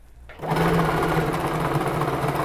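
A sewing machine stitches the shoulder seams of a basic adjustable dress, starting abruptly after a short pause and running at a fast, steady rhythmic whir close by.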